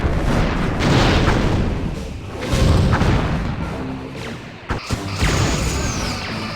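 Heavy booming impacts from photon torpedoes striking a starship's shields in Star Trek Bridge Commander, with loud repeated thuds and crashes rolling over a dense rumbling battle bed, a sharp hit near the end.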